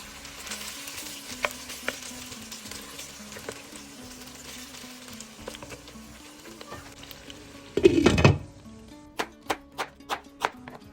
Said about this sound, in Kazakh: Майға етті қосып 10 минуттай қуырамыз.